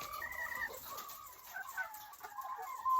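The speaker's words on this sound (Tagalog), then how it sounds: "Ito pala yung manok ko" Egg-laying hens at a small poultry farm cluck and murmur softly in the background, a faint, continuous chatter of several birds at moderate distance with no speech.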